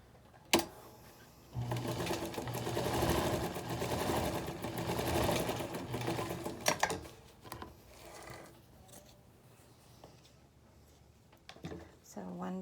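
A sewing machine stitching a fabric face mask, running in a loud whirring burst of several seconds after a sharp click, then stopping for handling noises while a voice talks.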